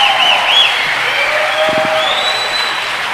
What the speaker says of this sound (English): So if you could give them all a round of applause.